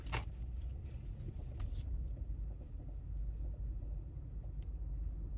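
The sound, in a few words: car driving, road noise inside the car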